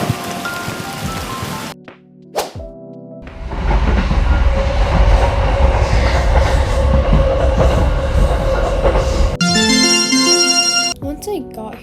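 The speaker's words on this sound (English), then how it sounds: "After burning the coal, I turned on my train and I went somewhere" Steady rumbling drone of a train running in the Roblox game Dead Rails, loud and continuous through most of the stretch, preceded by brief game sounds and followed by chiming musical effects.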